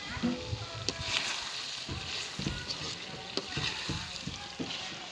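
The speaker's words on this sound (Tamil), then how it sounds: "மசாலா சேர்த்த உடனே அடிப்பிடிக்க ஆரம்பிக்கும் இதை கைவிடாமல் க கிண்டிக்கிட்டே இருக்கலாம்" Spicy pork curry with garam masala and chilli powder frying and being stirred in a pan, a soft steady sizzle with scraping stirring strokes, fairly faint and close.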